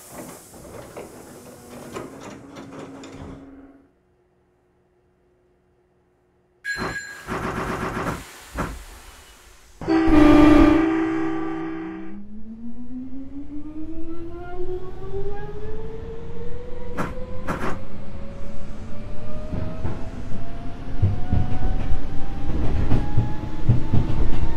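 A Hankyu Kobe Line express train on the Kobe-Sannomiya to Umeda service pulls away after a door-closing chime and air hiss, its motor whine rising steadily in pitch as wheels clatter and running noise builds.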